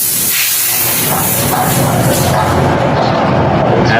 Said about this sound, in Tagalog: Tapos, release natin yung hangin.